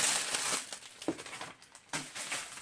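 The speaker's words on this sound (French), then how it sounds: "Je range mes diamants." Small plastic bags of diamond-painting diamonds being crinkled and handled while they are put away, close and fairly loud, in uneven bursts of rustling with brief pauses between.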